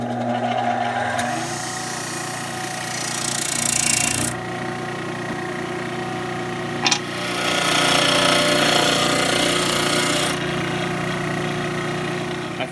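A Harbor Freight 12-inch benchtop disc sander runs with a loud, steady motor whir while wood is pressed against the disc, producing two sustained bursts of harsh rasping with a brief sharp knock between them.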